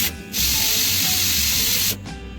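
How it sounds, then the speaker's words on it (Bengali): A pressure cooker cooking rice for egg biryani lets out a loud, steady rush of hissing steam for about a second and a half, then it cuts off sharply. No voices are heard. "এবার কুকারটা বন্ধ করে ঠিক 2টো সিটি দিয়ে নেব।"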